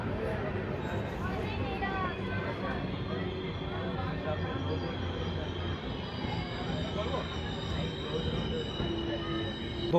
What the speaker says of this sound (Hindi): हमारी ट्रेन पहुंच चुकी है कांटाबांजी रेलवे स्टेशन पे।